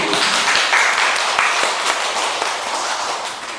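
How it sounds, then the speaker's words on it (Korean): Lecture audience applauding a professor at the close of a Han River history and culture talk, a steady, dense wash of clapping sustained throughout without speech over it. "고생해주신 교수님한테 다시 한번 박수 한번 부탁드립니다"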